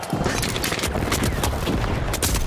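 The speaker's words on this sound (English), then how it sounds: "Tossing a frag." Frag grenade going off in The Finals amid dense crackling gunfire and rapid bursts, a continuous loud chaotic barrage of shots and impacts.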